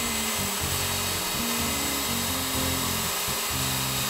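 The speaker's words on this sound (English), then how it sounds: "We're gonna take that out with the router." An old Sears Craftsman router cuts into a wooden sign, its high motor whine steady and close while the bit's load shifts in repeated pulses as it carves through the wood.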